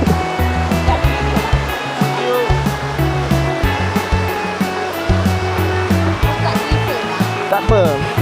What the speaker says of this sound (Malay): kita meredah sungai ya